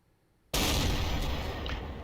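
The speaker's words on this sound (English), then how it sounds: "Gotta have a little gunfire." A sudden loud burst of gunfire sound effect in a Napoleonic battle wargame cuts in after near silence and carries on as a dense, sustained crackling roar to the end.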